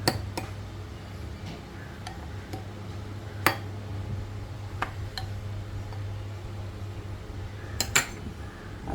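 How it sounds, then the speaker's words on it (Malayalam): A spoon stirs yogurt in a bowl, giving sparse, faint clinks and taps against the bowl over a low, steady background hum. "ഒരു ബൗളിലോട്ട് ഒഴിച്ചു കൊടുക്കുക നമുക്കത് നന്നായിട്ടൊന്ന് ഇളക്കി കൊടുക്കുകയാണ്"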